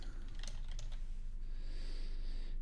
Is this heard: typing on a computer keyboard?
yes